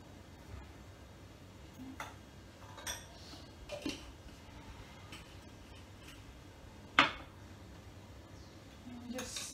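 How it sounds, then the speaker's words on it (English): Quiet clinks and taps of a utensil stirring a mixture in a bowl, scattered irregular knocks with one sharper clack, faint and close in a calm room. "And just stir this mixture."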